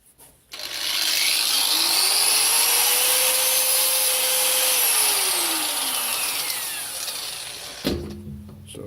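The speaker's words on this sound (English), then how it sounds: "I'm just going to nip that little bit with the grinder" An angle grinder spins up and runs steadily for several seconds, grinding burrs off a welding table with a loud, continuous whine and rough metallic rasp, then stops abruptly.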